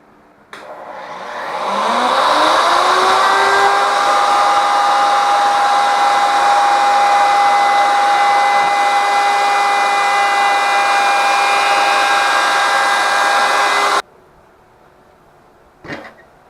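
A Ryobi router on a router table spins up from rest into a loud, steady high-pitched whine at full speed, holding for about twelve seconds before cutting off abruptly, followed by a brief knock.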